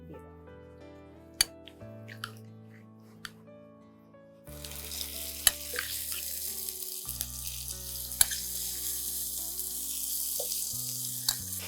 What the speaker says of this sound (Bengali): মাংসটা ভাজতে কষতে কষতে পেঁয়াজটা আরো ভাজা হয়ে যাবে